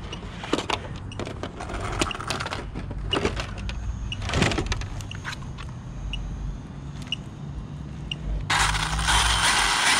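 Stripped gear grinding in an Arrma Mojave 6s RC car, heard as rapid mechanical clicking and ratcheting bursts over a steady whirring drivetrain, close up and continuous, with a louder rasping stretch near the end.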